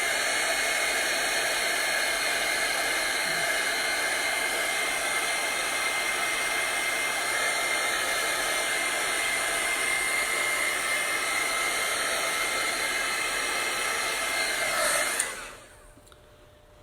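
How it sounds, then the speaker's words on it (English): A hair dryer blows steadily on chalk paste on a farm fresh apples sign for roughly fifteen seconds, a loud, even whoosh heard alone before it switches off and winds down. "I'm going to dry this so I don't get my fingers in it any more than I already have."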